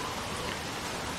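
Steady rain falling in The Walking Dead video game, a dense even hiss of raindrops with nothing else heard.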